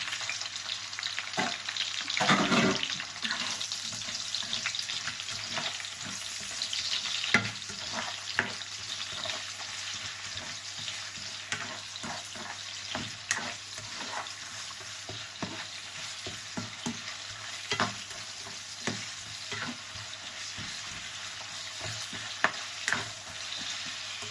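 Onions sizzle and fry in a hot pan while being stirred for beef stew, with a steady crackle and repeated scraping stir strokes throughout, loud and close with no talk.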